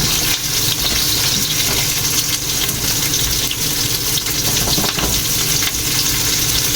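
Onions sizzle loudly on a grill, a dense, steady hiss of frying that fills the whole stretch with no breaks and no one speaking.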